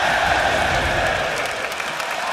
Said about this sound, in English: Crowd obviously enjoying.